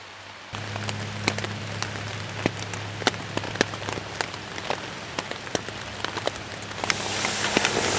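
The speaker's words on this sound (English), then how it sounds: "I woke up just before daylight to the sound of rain hitting my tent." Rain patters on a camping tent in a steady close-up spatter of drops, with sharper individual hits scattered through and the downpour swelling louder toward the end, under a low background hum.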